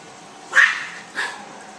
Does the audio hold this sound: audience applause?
no